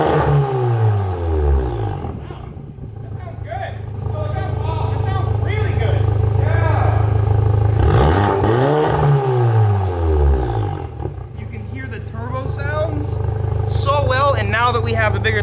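A revving turbocharged Volkswagen GTI engine with a big turbo and custom exhaust roars and climbs in pitch in repeated bursts, loud and close, with sharp whooshes and fluttering turbo noise as the revs drop.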